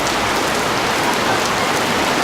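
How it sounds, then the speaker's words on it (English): A heavy downpour drums on a hut in Ethiopia, a dense, steady, loud hiss of rain with no break and no voices. "it is just downpouring. The rain is coming down."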